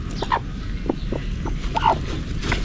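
A brooding hen clucks several times in short, close, moderately loud calls over a noisy background on a farm.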